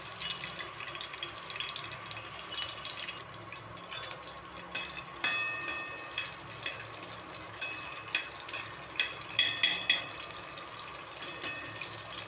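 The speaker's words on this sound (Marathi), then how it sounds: "आता हे टाकते मी लसूण हे याच्यामध्ये" Garlic roasts on a hot griddle, giving a low steady sizzle with repeated soft scraping and stirring clatters that grow busier midway, with no voices.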